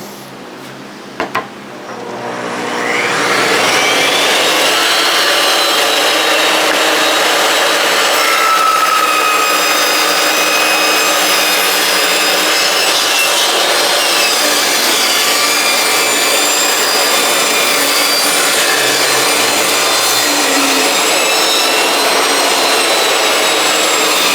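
Power saw trimming wood pieces for a couch spacer: after a couple of clicks, the motor spins up to a loud, sustained whine and keeps cutting steadily at close range.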